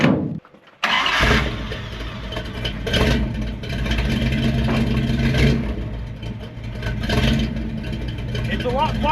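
An abandoned Dodge Power Wagon cranks and fires up through a custom exhaust, settling into a loud, steady idle with some revving.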